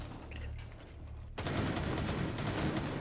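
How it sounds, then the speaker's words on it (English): Dense gunfire from many weapons in Rainbow Six Siege, starting abruptly partway through after a quieter stretch of ambient game sound, then a loud sustained wall of overlapping shots to the end. "So many bullets were fired right there, Christian."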